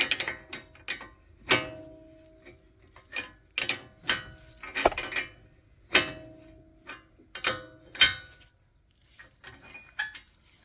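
A wrench or ratchet tightens the CV axle nut on a 2011–2019 Ford Explorer, making bursts of close metallic ratcheting clicks separated by short pauses, with no talk.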